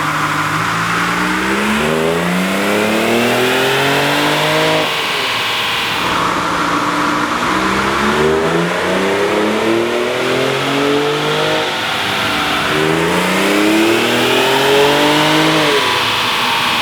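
A 2017 Ford F-150 Raptor's engine roars through repeated rising revs on a dyno, climbing and dropping in three long sweeping pulls. The loud, continuous runs have no break between them.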